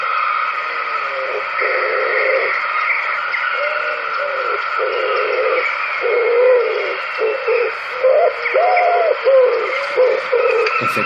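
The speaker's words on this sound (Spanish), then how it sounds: "esta es la paloma torcaz" A common wood pigeon's soft, rhythmic cooing phrases repeat over a steady hissy background of broadband noise, moderately loud and uninterrupted by voices.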